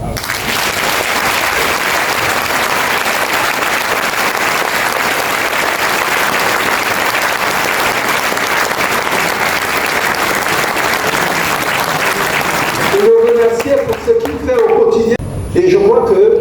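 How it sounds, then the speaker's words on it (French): Sustained applause from a seated audience at a political party panel in honour of the Prime Minister, a steady dense clapping for about thirteen seconds before it breaks off into scattered sounds and talk. "qu'on fasse un banc d'applaudissements"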